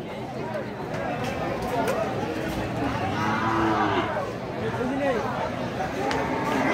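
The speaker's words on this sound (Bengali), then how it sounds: "বিশাল শৈলী অধিকারী বড় গরু।" Large cattle mooing at the Dakshin Jamsha cattle market in Bangladesh, with drawn-out lowing calls rising near the middle over a constant hubbub of crowd chatter and market noise.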